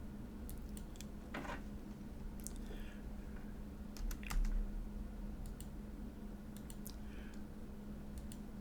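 Computer keyboard being typed on, scattered quick clicks and short bursts of keystrokes, close and fairly quiet over a low steady hum, with no talking.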